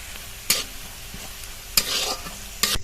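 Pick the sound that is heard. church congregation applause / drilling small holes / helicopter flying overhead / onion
onion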